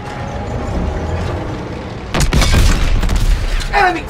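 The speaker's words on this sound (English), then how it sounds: "Enemy tank destroyed!" An enemy tank in Call of Duty World War 2 combat blows up with a loud, sudden boom midway after a low mechanical rumble, followed by crackling debris and a brief squealing tone near the end.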